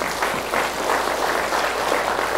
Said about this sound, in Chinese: 这不用鼓掌啊